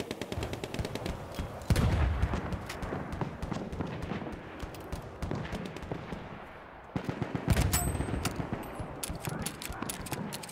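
Machine gun fire rattles in rapid bursts during a Battlefield 1 match, rhythmic loud volleys broken by a brief lull and then resuming, with mechanical clatter mixed in.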